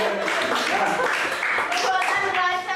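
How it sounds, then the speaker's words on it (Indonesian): Classroom applause for a student during an accounting lesson, a short burst of children clapping mixed with a teacher and kids talking over it, close and lively throughout. "Betul, tepuk tangan buat Yayas"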